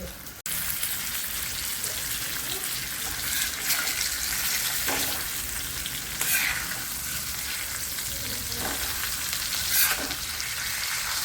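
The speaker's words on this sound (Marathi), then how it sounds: "बारीक गॅसवर आपण तळून घेऊ." Bangda (mackerel) fish fry on a low gas flame, sizzling steadily and close, with a few soft scraping touches and bursts of spattering.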